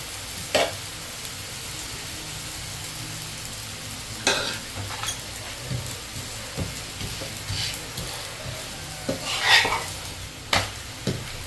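Food frying in mustard oil in a pan, turned over to brown on both sides: a steady low sizzle with several sharp clinks and scrapes of a utensil against the pan, no talking.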